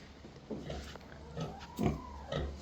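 Farm pigs grunt and oink as they are offered a treat in a barnyard, several short, soft grunts spaced irregularly at close range.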